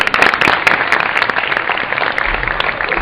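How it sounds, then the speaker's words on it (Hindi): An audience at a Shivratri festival claps for a Siddi music group, a dense, steady burst of applause filling the space for a few seconds with no speech. "उनके लिए ताली बजाओ।"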